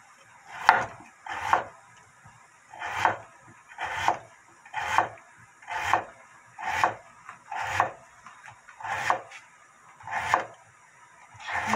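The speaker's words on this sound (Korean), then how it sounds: "그리고 저는 이제 야채를 미리 이렇게 썰어 놓겠습니다" Knife slicing vegetables and radish on a wooden board for pollack soup, a steady series of about a dozen rasping cuts, evenly spaced roughly once per second, close and moderately loud.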